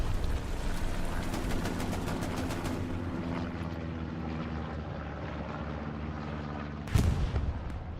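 Rumbling airstrike blasts and heavy low booms in the Hell Let Loose World War II shooter, with rapid distant gunfire early on and a sharp, loud explosion near the end over a constant battlefield drone.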